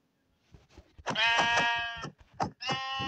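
A sheep bleats several times in quick succession, loud and close, with a slightly synthetic, game-like quality.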